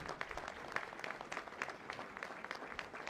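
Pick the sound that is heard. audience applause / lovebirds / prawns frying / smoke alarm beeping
audience applause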